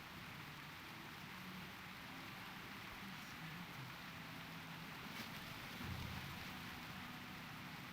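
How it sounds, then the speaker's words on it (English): A rainstorm in the video game World of Warcraft, a faint, steady hiss of rain and wind that holds evenly throughout, with no distinct drops or thunder. "Nothing like good old rainstorm and WoW,"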